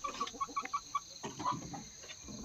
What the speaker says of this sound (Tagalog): Gandang manok, white legs.